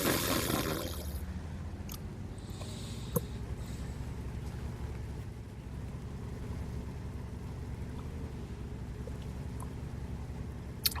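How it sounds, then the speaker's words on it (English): Premium tank in World of Tanks with a meaty engine, idling and rumbling in a steady low mid-range drone. A few sharp clicks and brief knocks sit on top, and a louder burst opens the clip. "Engine noise is really meaty, and I think it's fitting for that tank."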